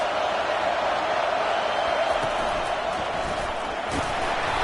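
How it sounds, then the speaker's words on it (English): Football stadium crowd at a Hurricanes game, a dense, continuous roar of many voices at steady loudness, close and filling the whole moment without breaks. "This crowd trying to make life miserable for this offense."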